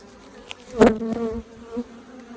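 Honey bees buzzing around an open, nectar-heavy beehive colony, a close droning hum that swells briefly in the middle and then settles back to a steady buzz.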